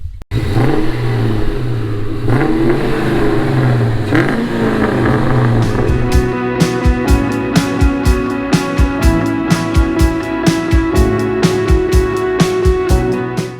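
Old Mach 1 car engine revving as it drives, loud and close, with a rising drone that breaks into a series of sharp rhythmic bursts and gear-change pulses.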